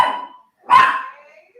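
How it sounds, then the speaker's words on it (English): A dog gives two short barks close by, a quick first yelp followed after a brief gap by a louder, sharper bark that trails off. "Ace, stop barking."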